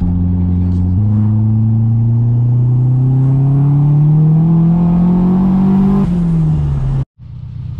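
A turbocharged car engine pulls hard under boost, its loud steady drone climbing in pitch for about six seconds, then dropping off sharply to a brief silence before idling back in.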